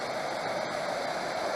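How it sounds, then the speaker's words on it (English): A small waterfall pours steadily into a culvert, a dense, even rushing wash with no breaks, fairly close and moderately quiet. "this cool waterfall coming down, going into a culvert"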